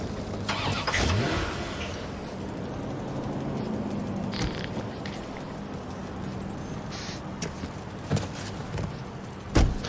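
Car engine starting in the video game Watch Dogs 2, a steady mid-pitched engine rumble running through most of the stretch, with a few brief knocks and clunks near the end.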